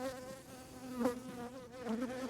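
Honey bees buzzing around an open, weakened hive, a dense, close drone of many wingbeats with shifting pitch, steady and moderately quiet with no talking.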